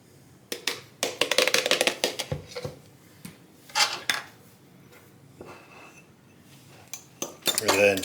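Cutlery mixing relish and Hellmann's mayonnaise in a bowl, heard as clinks and scrapes against the dish in uneven bursts, close and fairly loud, with brief quiet gaps between them.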